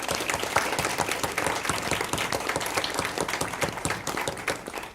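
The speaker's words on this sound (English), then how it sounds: "Big round of applause for everybody" A school award ceremony audience gives brisk applause, dense overlapping claps close by that hold steady for five seconds and begin to thin near the end.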